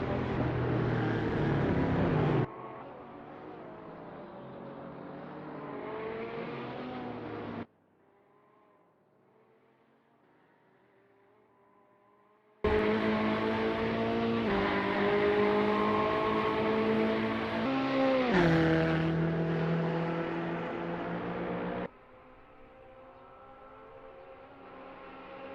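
A Ferrari 488 GT3 race car engine at Virginia International Raceway sounds out in loud stretches of harmonic engine note that rise and shift in pitch, broken by a quieter gap as the car moves away and returns.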